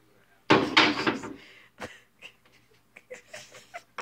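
A door, held open by a homemade boot project, bumps and swings closed with a loud thud near the start, followed by lighter knocks and handling noises.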